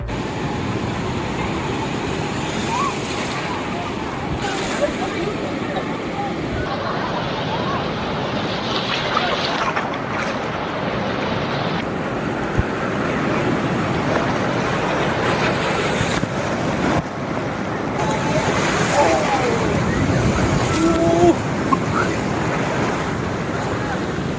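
Sea waves at Puri beach, known for its strong pull and current, roar in a loud, continuous wash of surf with wind, the breaking water steady and close throughout.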